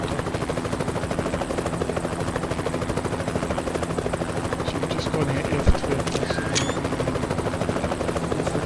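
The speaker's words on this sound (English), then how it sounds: "we're going to hope that we can get by this helicopter" A helicopter's rotor thumps in a steady, rapid chop, loud and continuous, with a brief chirp partway through.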